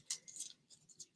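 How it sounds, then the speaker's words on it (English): Paper crumpled by hand for an art journal page gives a few quick, crisp rustling crinkles in short bursts, close and fairly quiet against a silent background. "So I'm going to take this paper, just like you would tissue paper, and kind of crumple it up."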